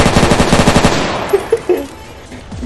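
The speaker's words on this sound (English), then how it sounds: "there's a guy shooting at us right now" Rapid machine-gun fire rattles loudly in a fast, even burst in a military shooter video game, followed by a few scattered single shots as the firing fades.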